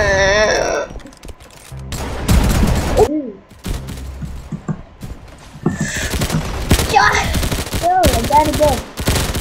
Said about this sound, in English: Yeah, the shotgun's not that good.